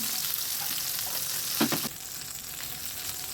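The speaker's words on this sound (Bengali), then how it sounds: "বেগুন ভাজতে অনেক তেল লাগে।" Eggplant slices fry in oil, a steady even sizzle with a brief clatter of handling partway through and no talking.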